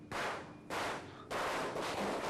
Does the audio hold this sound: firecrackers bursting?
yes